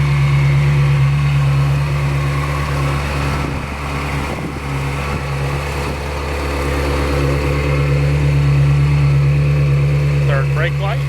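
A Ferrari 360 Spider sits idling just after start-up, a steady, loud, low-pitched engine hum that holds evenly for the whole stretch with slight swells near the end.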